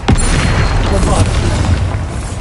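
Bombarda explosion spell in the video game Hogwarts Legacy: a loud, close boom opens with a sharp hit and carries into a dense rumble lasting a couple of seconds, with a voice briefly over it.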